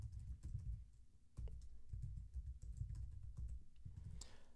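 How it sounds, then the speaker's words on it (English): Fingers tapping on a computer keyboard, a quiet, irregular run of close clicks and taps for a few seconds, with no voices. "So we're going to type in my bucket name."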